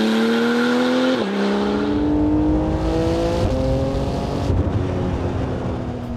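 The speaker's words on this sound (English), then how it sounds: "what I'm concerned about is that legendary Porsche flat 6." A Porsche 911's flat-six engine revs hard and loud, its rising harmonic tones stepping up through quick gear changes over about six seconds, with no voices.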